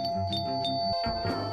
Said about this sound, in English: Yay! The doorbell!